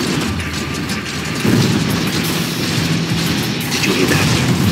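Red Alert 3 battle sounds as units open fire during an Empire campaign mission: loud, dense rumbling explosions and booming weapon blasts rolling continuously, with a heavier burst partway through.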